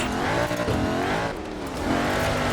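Bowler EXR S offroader drifting hard, its engine roaring steadily while the tires squeal continuously across the clip, loud and close with a brief dip midway.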